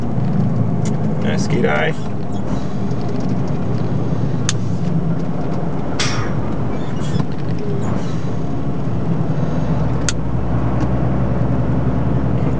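A motorhome on the road, its engine rattling steadily with a constant low rumble and road noise throughout, while a person speaks briefly inside the cab.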